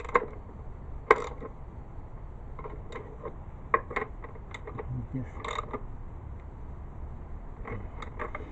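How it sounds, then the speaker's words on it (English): A 10mm socket ratchet with extension works on the engine of a 2008 Kia Rio5, quiet clicking and scattered metallic ticks with a few sharper knocks, close and without speech. "Now you can take your 10mm socket and extension"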